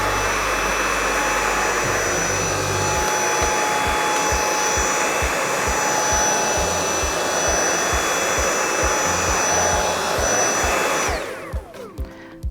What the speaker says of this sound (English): So I'm going to do this half, first of all, on the minimum suction.